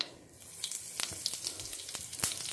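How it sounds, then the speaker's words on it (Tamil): Mustard seeds sizzle in hot oil, giving a soft, steady crackle with scattered quick pops. The sound stays fairly faint and close. "எண்ணெய் குத்தி கடுகு மட்டும் போட்டிருக்கேன்"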